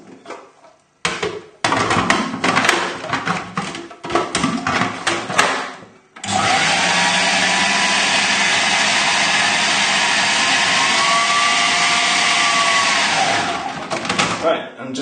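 A food processor whirs loudly and steadily for about seven seconds, blitzing a coriander and lemon crust mixture with olive oil, salt and pepper, after a run of short clattering knocks and pulses.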